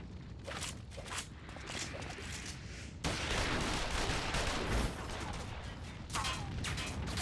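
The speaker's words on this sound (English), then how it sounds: "Shoot the bastard! Shoot him!" Rapid bursts of gunfire in a battle scene from the video game Final Fantasy XIV, dense and continuous, with heavier volleys partway through and a steady game soundscape underneath.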